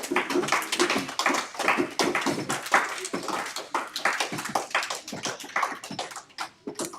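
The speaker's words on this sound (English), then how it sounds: "You can clap, that's fine." Applause from a small audience congratulating the winning team at a weekly team awards session: dense, steady patter of many hands clapping together for about seven seconds, fairly close and loud.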